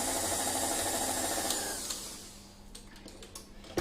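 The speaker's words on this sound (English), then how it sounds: "give it another quick whisk, get those last bits of flour in" Batter is whisked with flour, a loud motorized whirring at the start that winds down and stops after about two seconds, followed by a few light clicks and clatters close by.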